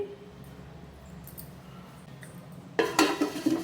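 A metal stand set inside a cooking pot to preheat it for baking peanut biscuits, with faint soft clinks over quiet room noise, then a louder burst of metallic clattering and scraping near the end.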